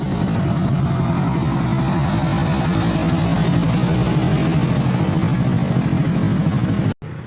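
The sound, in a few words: riding a borrowed motorcycle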